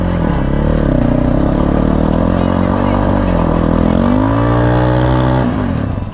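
A Levhart LV200 GY-3 motorcycle in first gear pulls away as the clutch is let out, its loud, close engine droning steadily and then rising in pitch before easing off at the end.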